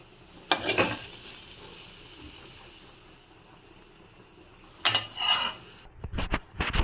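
Browned meal maker soya chunks in a frying pan, with two bursts of stirring and scraping over a low background sizzle, then a few clatters of utensils near the end.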